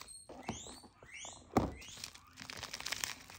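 A plastic parcel package being cut open with careful snips, a few soft crinkles and sliding scrapes of plastic, then a sharp thunk and rustling, all close and quiet.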